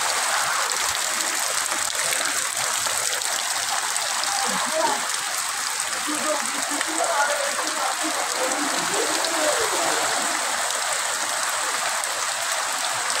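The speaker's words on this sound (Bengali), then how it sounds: "ব্যাপক বৃষ্টি হচ্ছে সাতক্ষীরাতে" Heavy rain pours down at Shibtala crossing in Satkhira during a stormy day, making a loud, constant hiss of drops drumming on surfaces nearby, steady and unbroken throughout.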